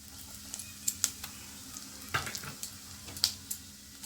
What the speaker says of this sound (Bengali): আমার পনির ভেজে যে তেলটা আছে তার মধ্যে আমি দিয়ে দিচ্ছি একটা শুকনো লঙ্কা আর গোটা জিরে ফোড়নের মধ্যে